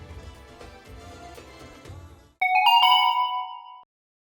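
A mobile phone ringtone plays a bright chiming melody of quick repeated notes for about a second and a half, following a stretch of low background music.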